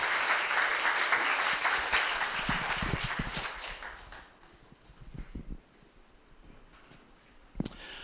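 A church camp audience claps loudly for two people as they return to their seats, dense applause for about four seconds that thins into scattered claps and fades.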